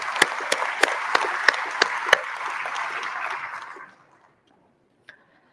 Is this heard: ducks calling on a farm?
no